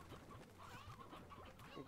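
Chickens in the video game Slime Rancher cluck softly, a cluster of quiet, overlapping bird calls with short rising chirps repeating throughout.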